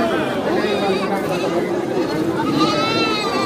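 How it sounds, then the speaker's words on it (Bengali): Goats and sheep at a busy village livestock market in India bleat amid a dense crowd, the animal calls blending into constant chatter and voices close by. "অসংখ্য ছাগল এবং ভেড়া হাটে উঠেছে।"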